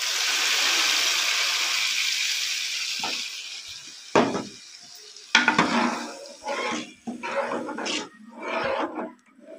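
Hot tempering for chana dal, a steady loud sizzle at first, then poured into the cooked lentils with several bursts of hissing and spattering, plus clinks of a metal spoon and pan, no one speaking.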